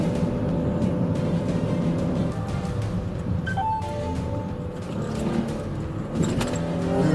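A police vehicle accelerates hard during a pursuit, its engine a loud, steady roar that swells and holds across the whole stretch, with a brief dip in the middle and faint higher tones from traffic or the siren.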